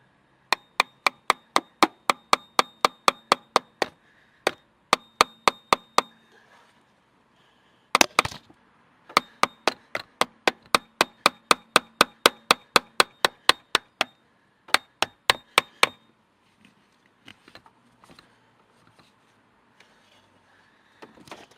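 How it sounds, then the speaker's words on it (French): Hammer striking a car oil filter during an oil change, rapid metallic blows in quick steady runs with short pauses between bursts, loud and close with no talk. "Il suffit de taper au marteau dans le filtre."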